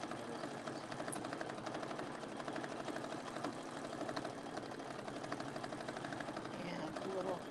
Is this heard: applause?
no